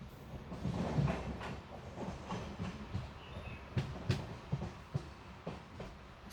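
The Matsyagandha Express, an LHB rake, rolls slowly into Udupi station, with faint rumbling and a run of rhythmic wheel clicks and clanks that grow sharper toward the end, heard from the platform at a moderate distance.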